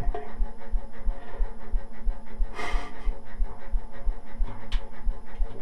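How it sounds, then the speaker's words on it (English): A fast, steady series of soft breathy pulses, like a dog panting, repeating evenly for several seconds over a faint background hum. "Sounded like a dog panting."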